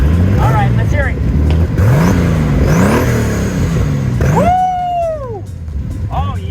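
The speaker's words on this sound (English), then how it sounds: "Is that a Magnaflow exhaust? Straight pipe to Magnaflow muffler." A Datsun Z car engine revving through a straight pipe into a Magnaflow muffler, with steady rumble and rising revs near the microphone while people talk and exclaim over it.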